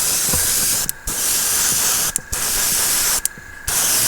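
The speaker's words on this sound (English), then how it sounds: "just spray to make sure you get it evenly coated everywhere" Aerosol spray of protective coat onto a miniature, Testors Dullcote or Future: three long steady hissing bursts separated by short pauses, close and loud, with no talking.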